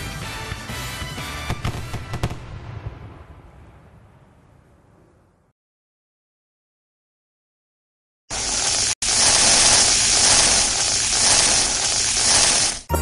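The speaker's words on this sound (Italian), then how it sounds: "Dico no ai botti pericolosi" Firecrackers and fireworks on New Year's Eve in Naples: a loud burst of crackling bangs that rings out and fades over several seconds, then after a silence a dense, sustained roar of rapid crackling explosions.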